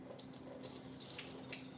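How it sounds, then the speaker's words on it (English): Tap water runs steadily into a sink as rice is rinsed for a Sunday dinner, a continuous close splashing hiss with small fluctuations, heard alone without talk. "you're gonna want to rinse the rice until the water comes out pretty clear"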